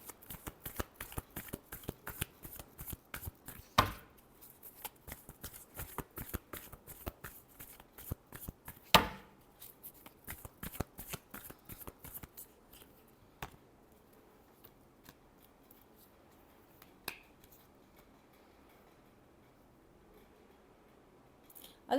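A deck of playing cards shuffled close up, rapid riffling flutters in quick bursts with a few sharp slaps, tapering off to sparse soft handling noises.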